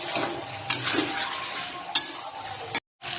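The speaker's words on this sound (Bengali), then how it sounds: "সুন্দর করে কষাতে থাকবো, তোমরা দেখতে থাকো। বেশি তেল দেবো না, এতে হালকা তেলে রান্নাটা করবো।" Mutton kosha being stirred and fried in a little oil, a close, bright sizzle with sharp spatula scrapes against the pan, a short gap near the end before the frying resumes.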